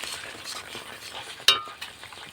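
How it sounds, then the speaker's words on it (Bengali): Ridge gourd paste cooks dry over low heat in a pan, making a soft, continuous sizzle with slow stirring and one sharp utensil clink near the middle. "এই জাল দিচ্ছি অল্প অল্প আর এটা আস্তে আস্তে ঝিঙের যে রসটা সেটা মেরে দিতে হবে"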